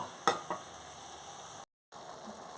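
Spinach and pumpkin greens simmering in a pot, a soft steady bubbling sizzle with a couple of sharp stirring clinks near the start and a brief dropout of silence before it resumes.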